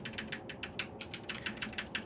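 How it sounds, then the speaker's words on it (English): Rapid, clattery keystrokes on a loud keyboard, a steady run of sharp clicks heard up close with no talking. "Clack, clack, clack. I got a new keyboard."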